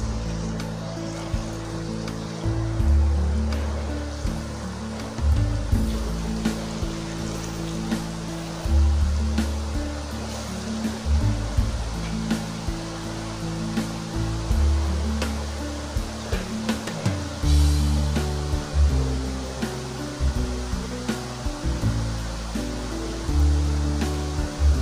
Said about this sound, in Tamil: இப்போ ரெடி பண்ணி வச்சுருக்க மாவை இதில் புரிஞ்சு விட்டுருவோம்.